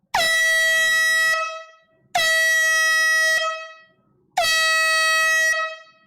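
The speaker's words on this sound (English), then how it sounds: "3 air horns." Three long blasts from an air horn, each sustained for over a second and then fading, evenly spaced with brief silences between them, loud and clear with no talking.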